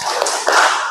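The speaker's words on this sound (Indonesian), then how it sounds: "ayo kita tepuk fokus dahulu" A classroom "tepuk fokus" focus clapping routine: a short burst of a few sharp, close hand claps and taps in quick rhythm, loud and clear with no talk over them.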